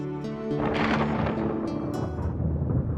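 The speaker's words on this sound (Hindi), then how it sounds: "बादल गरज रहे हैं" A deep, loud rumble of thunder swells in and rolls on, with a tonal hum fading out at the start.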